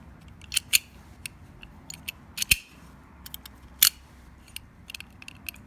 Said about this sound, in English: It's got a good snap. The bolt goes all the way.